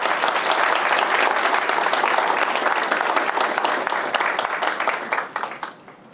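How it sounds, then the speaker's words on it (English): A crowd at a spiritual gathering's opening ceremony breaks into loud, dense applause for the board members, sustained for several seconds before tapering off at the end. "Let's have applause for everybody."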